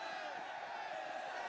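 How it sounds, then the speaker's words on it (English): A crowd cheers steadily at a CS:GO esports match, the Mibr vs AVANGAR quarterfinal at the 2019 Asia Championships, as a dense, continuous roar of an arena audience with no pauses. "The crowd cheering when the camera turns to James."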